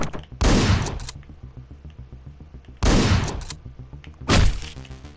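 Three loud, sharp gunshot bursts from the video game Hotline Miami, each a hard crack with a short ringing decay, spaced unevenly apart.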